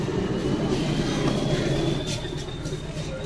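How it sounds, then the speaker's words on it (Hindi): A meter gauge train with plywood seats rumbles along near Dudhwa National Park in India, heard from inside as a steady, loud low roar with faint squeals and no clear breaks. "और ट्रेन चल रही है मेरी।"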